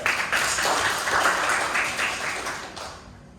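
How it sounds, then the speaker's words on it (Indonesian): A small group applauding after a mentoring session, a brief dense burst of clapping that fades away after about three seconds. "Tepuk tangan buat dia"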